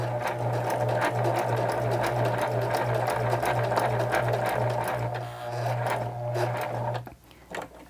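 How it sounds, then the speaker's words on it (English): A sewing machine stitches through a handmade Christmas card in a fast, even run of close mechanical clatter, slowing and stopping near the end. "I'm not going to sew the top edge because that's going to be covered up by my tree piece."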